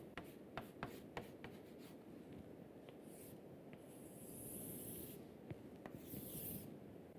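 Marker or chalk strokes on a lecture board while a diagram is drawn, heard as soft scratchy rubs and several brief sharp ticks, fairly faint and close with no talk.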